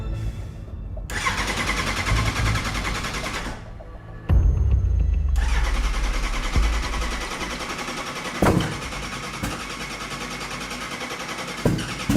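A car engine cranks, sputters, then catches and roars loudly, settling into a rough idle with a couple of sharp pops.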